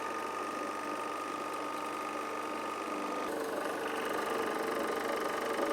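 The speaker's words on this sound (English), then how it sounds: "Start the recovery unit." Refrigerant recovery unit runs with a faint, steady mechanical hum and whirr that continues evenly throughout, with no voices.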